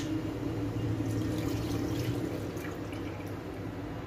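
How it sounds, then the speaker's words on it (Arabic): A cup of milk is poured into a cooking pot, a soft continuous liquid trickle and splash heard faintly and close, with no voices. "ادي كوبايه لبن اهي، حطينا لها"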